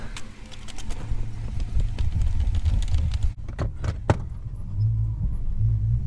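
Car interior noise from a 253 V8 with a low engine rumble and road hum, plus rattles and clicks, a brief dip, then steady idling.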